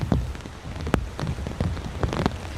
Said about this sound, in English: Storm Leonardo is battering Spain and Portugal, bringing historic rainfall.